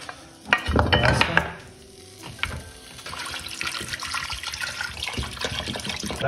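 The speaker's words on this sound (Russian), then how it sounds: "Значит, я заново закладываю мясо." Meat is loaded back into a pot of water while making shurpa, giving a close wet splash and sloshing burst near the start, then a softer steady watery clatter and stirring noise with no talk.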